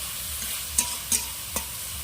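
Spice paste being sautéed in a pan hisses softly with a low sizzle, broken by three short scraping stirs of a spoon against the pan, close up and with no voices.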